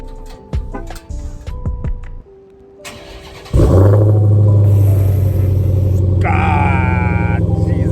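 A 2020 Dodge Challenger SRT Hellcat Widebody Redeye starts by remote: after clicks and brief voices, a loud supercharged V8 roars to life and settles into a heavy, close idle rumble.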